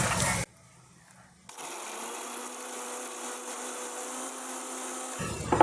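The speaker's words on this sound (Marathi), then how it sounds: "मसाला आता बारीक करून घेते." An electric mixer grinder grinds roasted masala for mutton curry, running with a steady, close whirring drone for several seconds after a short pause, then winding down at the end.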